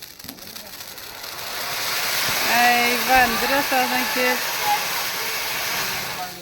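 A firework fountain burns on Vishu eve with a steady, loud hissing rush of sparks, swelling midway through while a person talks over it.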